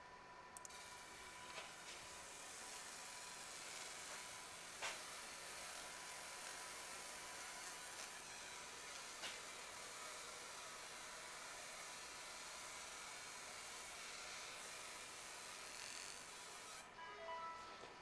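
A ComMarker B4 fiber laser marking at 2000 mm/s and full output, heard as a continuous faint airy hiss with a rasping edge, steady for the whole stretch and alone, with a few small clicks.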